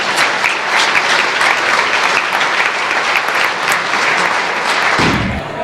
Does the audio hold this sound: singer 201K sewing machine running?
no